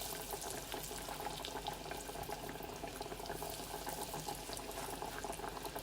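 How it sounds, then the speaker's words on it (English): Cheese and spinach ravioli frying in hot oil, a steady, dense crackling sizzle that stays even and continuous throughout. "it doesn't take long to fry them. So you can't go anywhere. They fry very fast."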